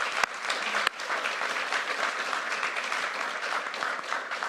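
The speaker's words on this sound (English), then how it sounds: "So I'm going to ask that we give her a round of applause" A conference audience gives a round of applause at an opening welcome, dense and steady clapping filling the hall throughout.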